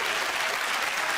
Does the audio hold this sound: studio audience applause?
yes